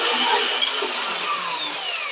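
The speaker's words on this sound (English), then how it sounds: "Lift your saw up, tighten her down. And we'll cut this piece off quick." A Vevor portable band saw cuts through a piece, its blade giving a loud steady whine and rasp at close range for the whole stretch, with no speech.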